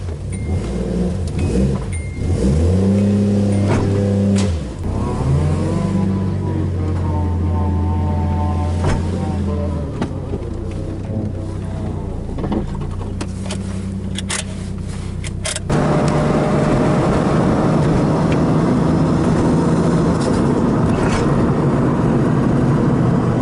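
A car engine rumbles and revs up and down repeatedly, rising in pitch with each throttle push, then settles into a steady, louder drone with road noise.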